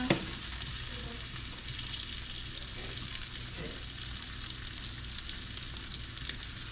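Sausages sizzle in a frying pan, a loud and constant hiss heard up close, with a sharp clink at the start and a few soft scrapes along the way.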